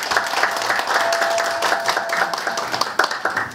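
Enthusiastic audience applause, a dense steady wash of many hands clapping at once, sustained for several seconds with a few sharper claps near the end.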